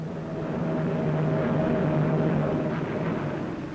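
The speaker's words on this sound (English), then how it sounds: "A turboprop anti-submarine aircraft which can take off and land from small escort carriers." A Short Seamew turboprop anti-submarine aircraft flies past at the 1953 Farnborough air show, its engine a steady broadband drone with a faint propeller tone that swells and eases over a few seconds.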